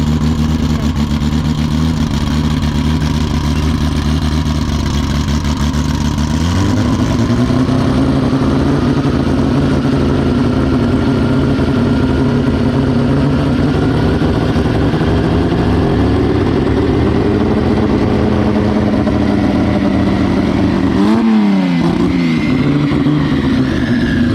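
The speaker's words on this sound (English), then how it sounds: "Sounds like it's at least 800 horsepower." A high-horsepower car engine of at least 800 horsepower idles with a steady low rumble, then rises in pitch and revs harder, dipping briefly with a sharp throttle blip near the end; loud and close, with no talk.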